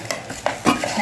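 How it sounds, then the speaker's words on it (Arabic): A spoon stirs saffron-coloured rice in a pot, giving a few close scraping, rustling strokes in a short burst with no talk. "نقلب بقى كده كويس عشان خاطر ايه؟ كل رزايه تاخد لون الزعفران."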